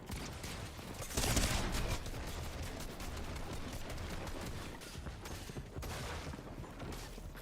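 Gunshots in a first-person shooter video game, a continuous crackling barrage of fire with a louder burst early on and quick repeated shots after it, fairly quiet overall.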